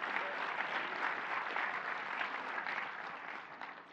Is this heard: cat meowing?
no